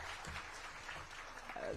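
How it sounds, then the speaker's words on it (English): Brief, soft applause from an audience at an African food systems ministerial forum, clapping under a faint voice. "please a round of applause to him"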